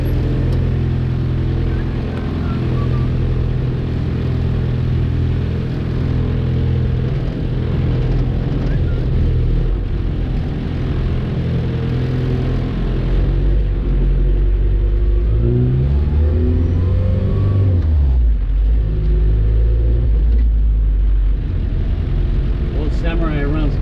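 A diesel engine in a Suzuki Samurai rumbles loud and close at idle, then rises and falls through revs in the latter half, with speech heard over the steady drone.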